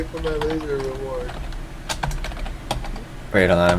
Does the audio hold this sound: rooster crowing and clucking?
no